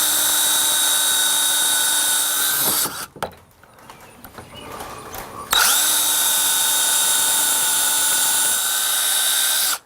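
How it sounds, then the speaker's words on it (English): A power drill drilling pilot holes for hinge screws whines steadily, pauses briefly for a quieter stretch, then spins up again and runs at a constant pitch to the end. "those are pre-drilling holes"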